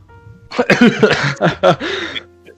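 A short run of several throaty coughs close to the mic, clustered together over about two seconds.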